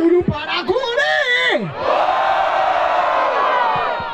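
A voice hollers over a freestyle rap battle crowd in Brazil, then the audience erupts in loud, sustained cheering and clapping that fills the rest of the moment.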